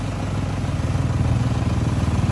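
A 2020 Toyota HiAce Commuter van engine idles steadily nearby, a low rhythmic chugging and clatter that holds constant throughout.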